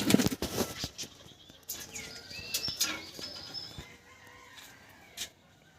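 A kalsira pigeon is released and beats its wings in a quick, close burst of flapping, then quieter rustles and a few faint flutters follow.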